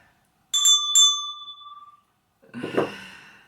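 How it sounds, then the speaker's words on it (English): A small bell is rung twice in quick succession and rings out clearly, followed after a pause by a brief rattling clatter, with no voices. "I feel like I need to ring the bell again."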